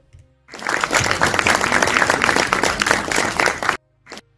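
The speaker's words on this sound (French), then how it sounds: "Là, c'est Ercilia Soudé qui est en train de s'auto-applaudir lors de son propre discours." A woman applauds herself during her own speech, setting off a burst of dense, sustained clapping across a crowd. It starts abruptly, holds steady for about three seconds, then cuts off, followed by a brief final patter.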